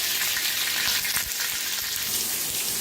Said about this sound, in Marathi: आता तेल चांगलं तापलंय, त्याच्यात टाकूया मिरच्या.